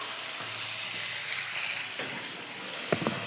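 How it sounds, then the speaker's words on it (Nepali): Chicken pieces fry in a pan with a steady, close sizzling hiss throughout, broken by a few light scrapes and knocks near the end, with no voices. "चिकन यसलाई चाहिँ अलिक फ्राई मात्रै गर्ने हो फर्स्टमा चाहिँ।"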